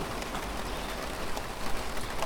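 Steady rain falls outdoors on a morning over a garden with a roofed water butt, a dense even hiss with faint patters throughout.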